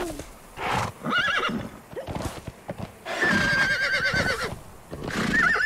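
A horse wearing warhorse armor in Conan Exiles whinnies and neighs several times over clip-clopping hooves and game sounds, fairly close and loud.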